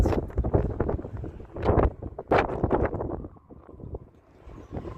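Strong wind gusts out on Ramsgate pier buffet the microphone with loud, rumbling broadband roars. The gusts surge and ease in waves, peaking sharply around the second and third seconds.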